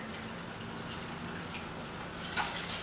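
Water poured from a cup into a pot holding 1 cup of quinoa, a steady low splashing trickle, close and fairly quiet, swelling briefly near the end.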